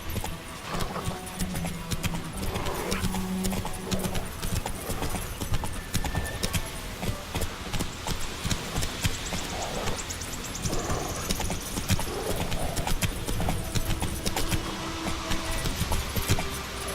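Geralt's horse Roach galloping in The Witcher 3, a steady rapid clip-clop of hooves running continuously under game ambience with some jingling tack, close and even throughout.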